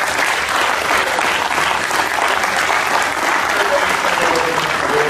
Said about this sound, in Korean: 시장협회에 다시 한번 박수를 부탁드립니다.